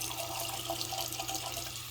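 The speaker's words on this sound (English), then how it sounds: "So I kind of fill that one with hot water to get those ready to soak those vegetables and that biscuit." Hot water running steadily from a tap into a dish, a continuous splashing stream heard close and moderately quiet.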